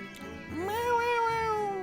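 A house cat gives a single drawn-out meow, rising then holding steady before tapering off, close and clear.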